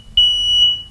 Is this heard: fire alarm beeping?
yes